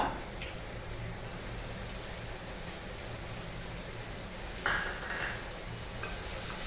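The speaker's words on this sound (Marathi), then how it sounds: "कांदा पण थोडा फ्राय करून घ्यायचा" Onion frying in a pan, a steady broadband sizzle running throughout with a brief louder burst of stirring midway, no voices present.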